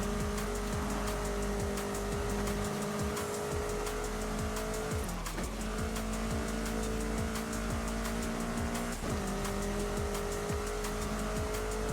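Racing car in Forza Horizon 5 during a B-class race, its engine droning steadily and loud throughout, with sharp gear-shift dips and repeated tire squeals, no voices.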